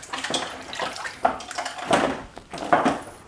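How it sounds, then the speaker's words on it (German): Clean water draining out of a 750-litre aquarium, a broad splashing, gurgling rush that swells in several uneven surges, close by and moderately loud with no talk. "lass jetzt mal sauberes Wasser noch ab"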